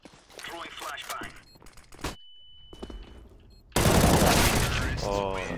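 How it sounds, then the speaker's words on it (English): A flashbang grenade in the Counter-Strike video game: brief clinks and a thrown-object sound, then a loud sustained burst of blast and ringing noise that fills the rest. "Throwing flashbang."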